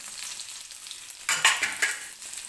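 Garlic tipped into a kadhai of hot oil already holding crackling mustard seeds and cumin, for a spicy spring onion greens bhaji. A soft background hiss jumps to a loud, bright sizzle with crackles midway through, with no talking.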